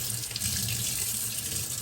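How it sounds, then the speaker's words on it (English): A kitchen faucet runs a steady stream of water onto an Arctic Air Chill Zone XL personal air cooler filter, giving a continuous, even splashing hiss with no talk. "we're going to go ahead and turn on that faucet and get it wet"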